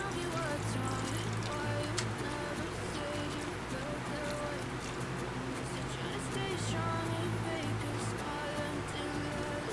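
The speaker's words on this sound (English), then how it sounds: "water that I'm adding at the top percolates through" Water gently poured over nylon cord in a potting setup, a steady trickle and pour running continuously beneath a voice and soft background music.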